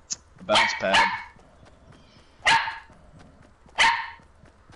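A dog barks in the background of a Fortnite livestream, a quick double bark followed by two single sharp barks spaced apart, fairly close and loud, with someone talking briefly.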